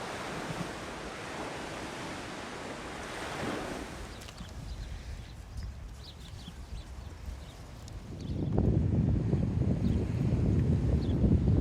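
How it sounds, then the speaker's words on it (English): Wind buffets the microphone on a coastal walk beside a sea wall by the River Alde at Aldeburgh. It makes a steady broadband roar that eases around the middle and then surges loud and close near the end, with no voices. "It's windy."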